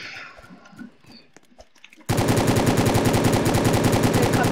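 Video game gunfire erupts after quiet shuffling, a loud, rapid, continuous automatic burst lasting a few seconds, close and sharp.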